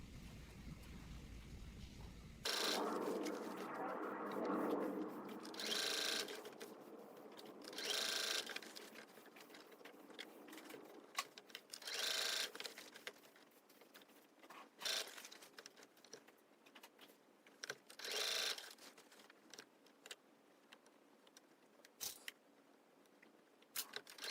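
Sewing machine stitching the armhole of a men's dress shirt being resized from large to small, a steady quiet whirring run with several brief louder surges and small clicks, and no talking.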